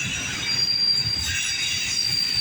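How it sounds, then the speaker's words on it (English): A loaded CSX autorack freight train rolls past northbound at close range, its wheels squealing in a thin high whine over a steady, heavy rumble throughout, with no voices. "here comes the end of our northbound loaded autorack train"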